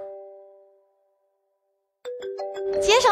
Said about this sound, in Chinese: 奶，你手机响